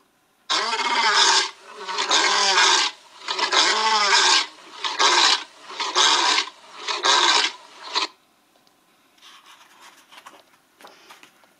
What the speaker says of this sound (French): alors il rugit, encore et encore.